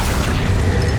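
Accio, the summoning spell in Hogwarts Legacy, lands as a short, heavy whooshing boom with a low rumble for about a second, close and loud with no voices.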